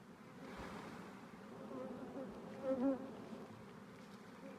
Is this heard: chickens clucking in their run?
no